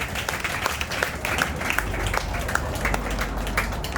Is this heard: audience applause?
yes